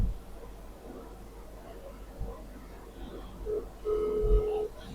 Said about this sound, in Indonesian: Ini udah masuk, udah dering.